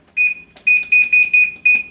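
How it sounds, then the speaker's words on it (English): A kitchen timer being set gives a series of sharp, high electronic beeps in short, even bursts, about six in quick succession. The beeps are close and clear, with no talking. "We'll set a timer"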